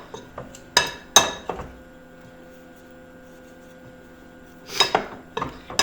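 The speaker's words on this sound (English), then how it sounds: "I'm just gonna take my finger and get any little bits of butter out of my pastry knife" A metal pastry knife clinks sharply against a bowl while cutting butter into flour for cheddar buttermilk biscuits, a few close bright clinks and scrapes separated by a long quiet pause.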